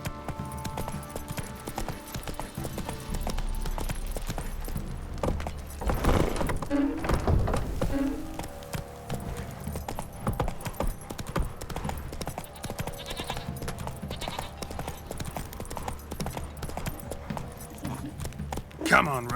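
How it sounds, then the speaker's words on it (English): Horse hooves clop and pound rhythmically as a horse gallops in The Witcher 3 video game, a steady close beat under a voice and game ambience, with a few louder thumps midway. "Run, Roach"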